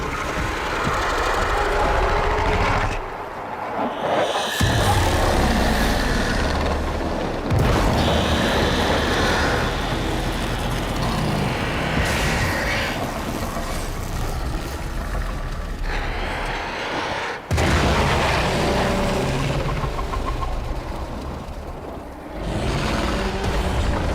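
An explosion in Warframe rolls out as a long, loud, heavy rumble that cuts out briefly a few times before surging back.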